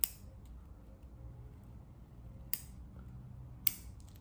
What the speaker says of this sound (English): Any nodes are just long, trim those back.